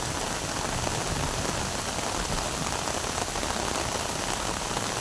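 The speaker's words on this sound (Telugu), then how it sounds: "ఇవాళ వర్షం పడుతుంది, అంటే బాగా పడుతుంది" Heavy rain pours down on a natural farm in a dense, unbroken roar of drops striking the ground, loud and close with no voices.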